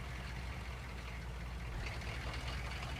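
An old farm tractor engine runs steadily and close by, a continuous low rumble with a rough, knocking texture and no talk over it.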